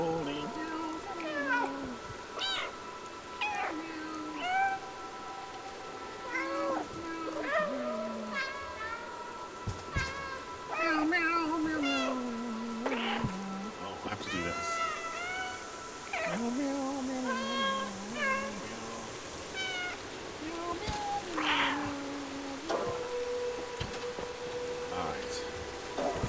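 Human voices meow Silent Night in a sing-song imitation of cats, with a run of pitched, wavering meows going continuously and fairly loud for the whole stretch.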